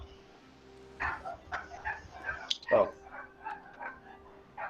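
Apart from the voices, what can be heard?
dogs barking while fighting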